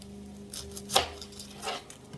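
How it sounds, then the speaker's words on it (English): A knife chops through an onion on a board, a few sparse cuts with one sharp, crisp strike standing out, close and fairly quiet, cooked for Thai beef and sweet potato curry. "I've got the onion. I'm gonna chop this off, chop it in the front."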